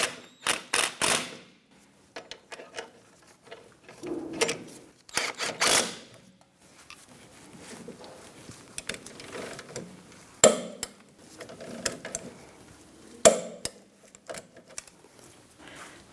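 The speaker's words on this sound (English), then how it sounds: "Tighten these up and then torque them to 50 foot-pounds." Ratchet clicking as bolts are tightened on the rear parking brake assembly of a 2010-2013 Kia Soul, with bursts of rapid mechanical clicks separated by quieter handling sounds and a few sharp metallic knocks, close and alone.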